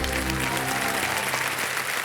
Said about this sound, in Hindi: तालियां बजते हैं शोभा जी के लिए।